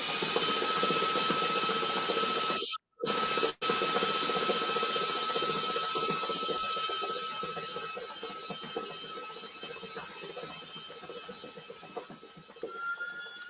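A stand mixer whips royal icing with a loud, steady mechanical whir and high whine. It cuts out briefly near the start, then runs on, fading slightly.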